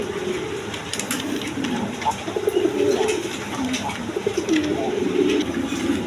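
Big red Indian Bombay pigeons coo in low, rolling bursts up close, layered over steady background noise and a busy mix of other birds.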